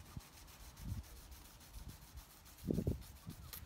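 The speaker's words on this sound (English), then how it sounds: "okay, I can saw through it." A 45 vinyl record being sawn through with quiet rasping strokes, faint and close, with a few scraping bursts and a louder grinding pass near the end.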